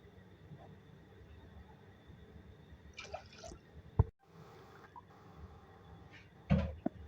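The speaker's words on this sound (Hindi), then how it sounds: "इसके अंदर पानी में शामिल करूँगी" Water is poured into a cooking pot of washed lentils sitting on a flame, giving a quiet splash and trickle with a couple of sharp knocks of the pot, all faint and fairly close.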